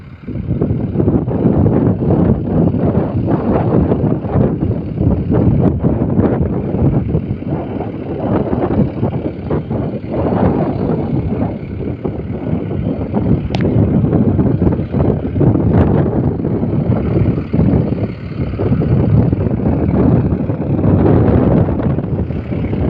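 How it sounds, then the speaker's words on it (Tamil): Strong wind blows outdoors under a hot sun, a steady loud roar buffeting the microphone throughout with gusty swells and no voices. "காற்று அடிக்குதுங்க"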